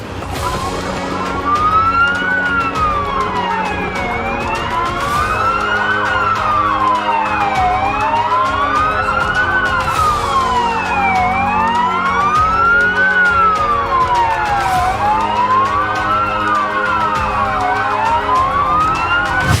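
A Polish ambulance siren wails in Warsaw, a loud rising-and-falling tone cycling about every two and a half seconds, steady and close with traffic noise underneath.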